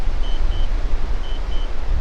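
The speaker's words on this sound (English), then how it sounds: "It's sending out the little beeping sound that tells me that this is happening." A DJI Spark drone returning home gives off two pairs of short, high electronic beeps, faint and evenly spaced, over steady outdoor wind rumble.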